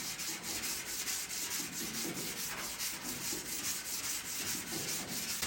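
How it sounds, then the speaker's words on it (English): A firm sanding block rubs steadily across body filler on a Porsche 356 Speedster panel, giving a continuous, even scraping hiss with no talk. "And then all I'm going to do is just sand that."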